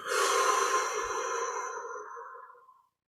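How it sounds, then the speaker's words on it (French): Long exhale during a breathing exercise in a yoga and meditation session, a close, breathy rush of air that fades gradually over about three seconds into silence. "On relâche et on expire."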